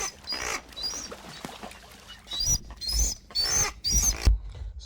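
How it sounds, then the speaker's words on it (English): A pair of blue ducks calls together: the male gives repeated high, thin whistles while the female answers with low, rough growls, several overlapping bursts close by. "So that call is actually two feel, the male and the female. The male makes the whistling sound that you hear"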